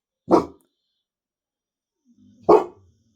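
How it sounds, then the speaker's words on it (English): Two sharp dog barks, one early and one about two seconds later, each a short loud single woof with a low grumble just before the second, separated by silence. "Yeah, it's okay, doggies."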